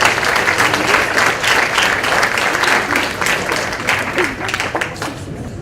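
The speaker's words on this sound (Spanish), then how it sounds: "Lo recibimos con fuertes aplausos." A conference audience applauds steadily to welcome a speaker before an augmented reality and Kinect talk, a dense, even wash of clapping that holds at full strength throughout with no voices over it.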